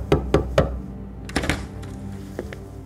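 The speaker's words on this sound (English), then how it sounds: "John knocks on the door and is ushered inside." Three firm knuckle knocks on a hotel room door, evenly spaced and close, followed by a few softer thuds and clicks as the door is handled.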